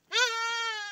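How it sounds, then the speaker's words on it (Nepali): One sheep out grazing gives a single clear, drawn-out bleat, close and isolated against quiet surroundings. "भेडा छ"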